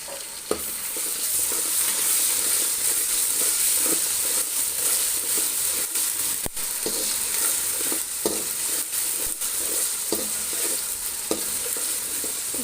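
Fried onions sizzling in a pan with spice paste, ginger-garlic paste and salt for chicken biryani, a constant bright frying hiss punctuated by sharp clacks and scrapes of a stirring spatula.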